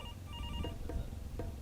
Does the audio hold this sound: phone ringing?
yes